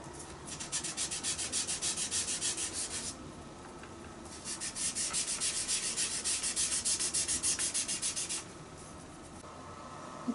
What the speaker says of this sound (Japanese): コットンを四つ折りにしてパレットから青色を塗っていきます。